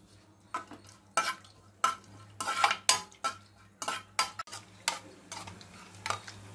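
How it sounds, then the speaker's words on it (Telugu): A metal spoon clatters repeatedly against a pan while dry fruits are stirred in hot ghee, giving a quick irregular series of scrapes and clinks over a faint sizzle and low hum. "కొంచెం కొంచెం వేసుకొని కలుపుకుంటూ ఉండండి."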